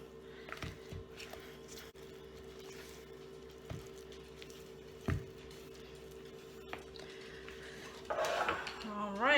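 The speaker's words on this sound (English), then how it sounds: "Then we're going to go ahead and mix this all up." Batter for Valentine's Day treats being mixed in a bowl, with quiet clinks and scrapes of a utensil against the dish, soft wet stirring and a few knocks, all low and close, plus a brief voice near the end.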